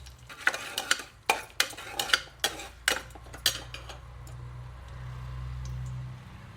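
Chana dal is tossed in a hot pan for a beetroot gravy, a run of about ten sharp metallic scrapes and clinks in quick rhythm, followed by a low, steady hiss.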